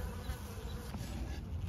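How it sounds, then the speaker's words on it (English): Honeybees inside a weak hive in early spring make a low, steady, continuous buzz, faint and muffled as if heard from below, with no talking. "I do hear some buzzing from below"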